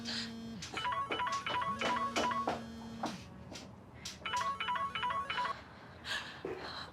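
A telephone rings in a tense indoor scene, with two bursts of electronic ringtone trilling, each over a low steady tone, separated by a brief pause and under faint background noise.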